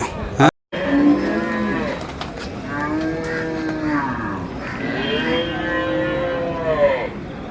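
Calves and cattle moo repeatedly at a busy Tamil Nadu cattle market, long drawn-out calls from several animals overlapping against a steady crowd murmur, after a brief dropout near the start.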